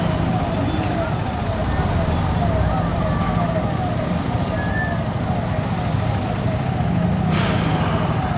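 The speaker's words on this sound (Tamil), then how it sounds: "ஆம்புலன்ஸே போக முடியாமல் ஸ்டக் ஆகிட்டுருக்கு." An ambulance siren wails steadily through a dense night traffic jam in Bhubaneswar, Odisha, mixed into constant roaring traffic and engine noise that stays loud throughout.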